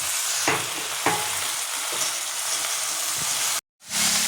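Mutton pieces frying in a pan with dried red chillies and spices give off a steady, loud sizzle, broken by a few scraping stirs and a brief dropout near the end.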